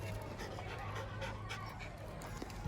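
Dog panting heavily with faint whimpers, close and continuous, over steady background noise.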